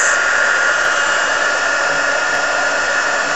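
Heat tool blowing steadily on embossing powder during alcohol ink leaf and flower crafting, a loud continuous close-up whoosh like a hair dryer with no talk.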